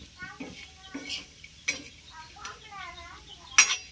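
Crumbled bhakri pieces stirred and tossed in a pan during a Marathi home-cooking breakfast, with scattered scraping and clinking taps of a utensil against the pan between pauses, fairly close and soft, while a voice talks intermittently.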